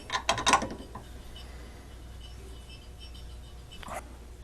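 A metal lathe chuck being tightened down on a workpiece with small jaws: a short burst of metallic ratcheting clicks and clanks at the start, a quiet stretch, then another brief clink near the end, close and moderately loud.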